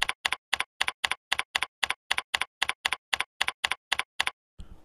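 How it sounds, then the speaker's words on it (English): Keys on a computer keyboard are tapped in a steady, evenly spaced run of about twenty crisp clicks, close and clear with no talking, ending in a brief soft rustle. "Select the text box, and then type in your information."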